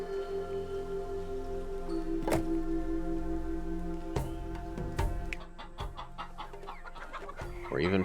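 Chickens in the video game Laysara cluck in scattered bursts over a steady ambient game backdrop. Sharp taps and pattering sounds, like rain, are mixed in, and no one speaks.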